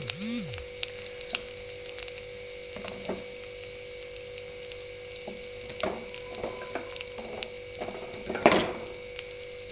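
Chili powder fries in hot oil for a pickle, a soft steady sizzle broken by scattered clicks and scrapes of stirring, with one louder scrape near the end.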